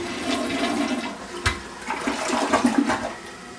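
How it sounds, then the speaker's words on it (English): A newly installed toilet flushes close by, a continuous rushing gurgle of water through the bowl lasting a few seconds, with no talking. "Now that I've tested the toilet to make sure it works"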